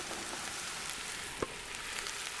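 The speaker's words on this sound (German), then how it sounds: "Dann geben wir hier erst einmal einen großzügigen Schluck Öl rein. Und die Champignons dürfen sich dazu gesellen." Mushrooms sizzle in a generous splash of oil inside a Dutch oven, a steady, fairly quiet frying hiss with one brief clatter partway through.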